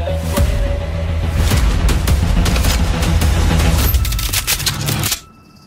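Dense gunfire and booming blasts from a crime-thriller film trailer, a loud, continuous barrage of sharp cracks layered over heavy rumble that cuts off abruptly near the end, leaving near silence.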